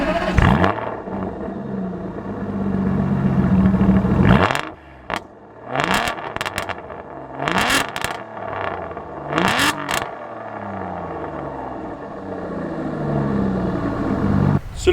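A 2005 Aston Martin DB9 V12 engine idles with a steady rumble, then is blipped through a series of sharp revs that rise and fall, each rev climbing quickly before settling back to idle.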